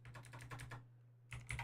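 Rapid typing on a computer keyboard, a quick run of close, crisp key clicks that pauses briefly before resuming, with a steady low hum underneath.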